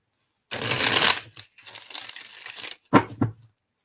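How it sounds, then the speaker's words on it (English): Playing cards being shuffled in quick bursts: a long riffling rush, a short pause, then another crackling shuffle and two sharp taps as the deck is squared, no voices. "me get these shuffled out really quick for you."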